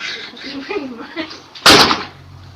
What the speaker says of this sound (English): Dude, my door just closed.